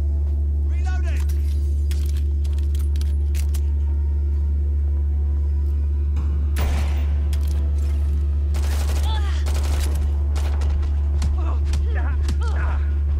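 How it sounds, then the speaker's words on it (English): Powerful gunshots in the game Watch Dogs Legion, heard as several sharp cracks spread through the clip over a loud, steady low hum, with voices talking over it. "Yeah, this gun's pretty powerful."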